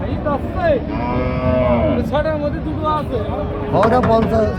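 Several cows moo repeatedly, long drawn-out calls overlapping against a busy background of crowd chatter at a cattle market in Jessore.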